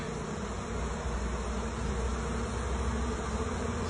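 Honey bees flying around a six-frame nucleus hive set in the shade under a tree, a steady buzzing hum with no pauses, close and clear, and no voices.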